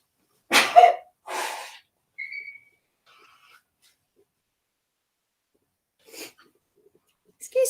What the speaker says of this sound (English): I'm going to sneeze in a sec.